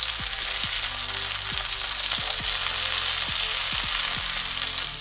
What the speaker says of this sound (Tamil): பாருங்க, இதே மாதிரி நம்ம எல்லா நண்டையும் திருப்பி போட்டுருவோம்.